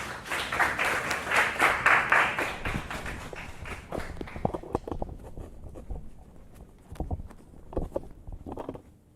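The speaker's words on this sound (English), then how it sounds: "can we give all of our presenters a round of applause?" Audience applause for the presenters of an HBCU transfer panel: a dense burst of many hands clapping that thins after a few seconds into scattered, fading individual claps.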